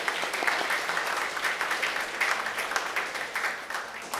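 A church congregation claps together in sustained, steady applause, a close and evenly dense patter of many hands with no voices.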